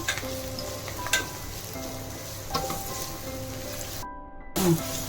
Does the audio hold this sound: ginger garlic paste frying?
yes